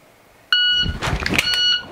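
A shot timer gives a sharp electronic beep during dry fire pistol practice, a clear harmonic tone starting abruptly and cutting through, followed by a quieter second beep amid light handling noise.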